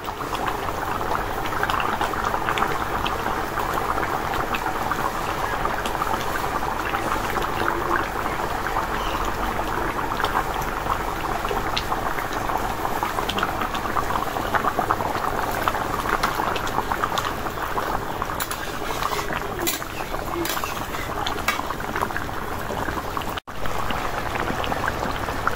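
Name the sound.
tomato and potato curry frying and simmering in pan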